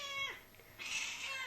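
Pet cat Kiki meows twice in quick succession at home, close and clear, with no one talking over it.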